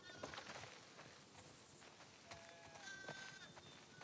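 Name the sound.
sheep bleating in The Last of Us Part II video game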